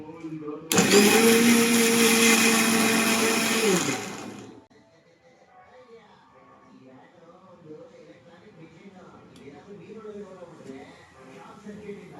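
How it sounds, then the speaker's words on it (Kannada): A kitchen mixer grinder whirs loudly as it grinds mango pieces with no water, running for about four seconds before winding down, followed by quiet talk. "ಈ ಥರ ಮಿಕ್ಸಿನ ಆನ್ ಮಾಡಿಕೊಂಡು ಒಂದು ಐದರಿಂದ ಹತ್ತು ಸೆಕೆಂಡ್ ತನಕ ನಾವು ಆಫ್ ಮಾಡಿ ಆನ್ ಮಾಡಿ"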